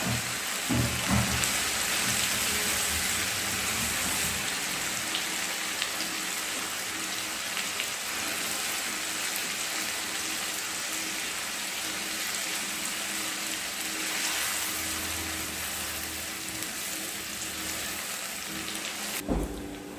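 Fish for Kerala fish pickle frying in hot oil, a steady, dense hiss and crackle sustained throughout at close range with no talk.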